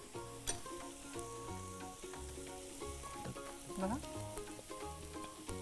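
Onion and ginger-garlic paste, with a little salt, cook in a pan for Kolhapuri misal, giving a soft, steady sizzle beneath a layer of tonal background music, all at low volume.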